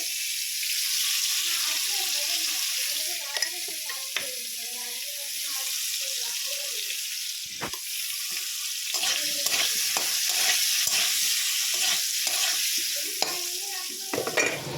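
Potatoes frying and being stirred in oil in a pan for a cauliflower, potato and pointed gourd curry, with continuous close sizzling and repeated scraping stir strokes, no talking.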